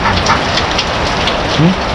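Steady heavy rain pours and patters on surfaces close by, a dense continuous hiss with a faint voice briefly underneath.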